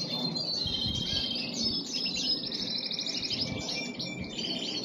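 Pet canaries sing and chirp continuously, with bright trilling phrases and quick repeated tweets layered over a soft indoor hum, moderately close and without talk.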